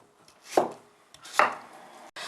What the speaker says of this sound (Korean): 무를 채를 썰어 주시면 됩니다